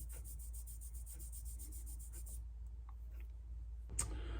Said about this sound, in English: I got these little brushes off Amazon, various sizes.